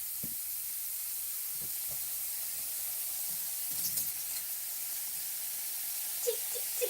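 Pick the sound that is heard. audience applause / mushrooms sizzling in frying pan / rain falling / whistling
mushrooms sizzling in frying pan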